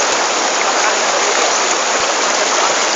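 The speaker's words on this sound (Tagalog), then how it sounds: "Mas ng agos pare oh" Strong river current rushing steadily through the Pasig River, a loud, dense broadband roar with no pauses, close and continuous throughout.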